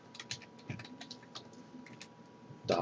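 Someone types an IP address on a computer keyboard, producing quiet, irregular clicking keystrokes close by, with a louder clack at the end.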